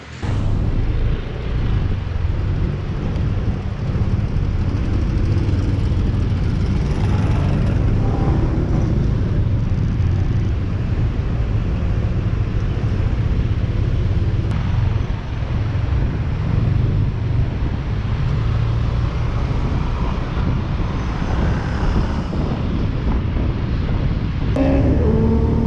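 Motorcycle ride on mountain roads in northwest Thailand, a constant rumble of engine and road noise mixed with heavy wind buffeting the microphone, loud and unbroken with no talk.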